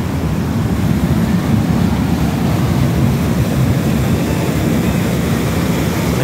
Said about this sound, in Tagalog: napakalakas ng tubig sa baba.